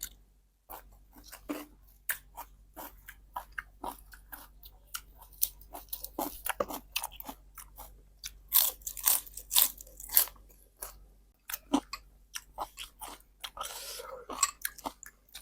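Loud, close crunching and chewing of crispy grilled squid served with seafood dipping sauce, with irregular bursts of crackly bites and pauses between mouthfuls, no talking.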